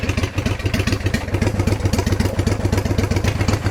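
A Honda Shadow 750 Aero V-twin idles up close with a steady, loping pulse and mechanical clatter, even and unrevved throughout, loud and alone.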